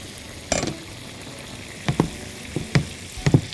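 Vegetables frying for lentil soup, producing soft bursts of sizzling and stirring scrapes, one near 0.5 s and a cluster in the last two seconds, over quiet background with no talk.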